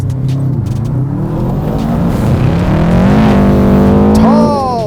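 A Subaru Impreza WRX accelerates hard on a slippery rally road, its turbocharged engine a loud, close drone that climbs in pitch through a gear change while someone talks over it.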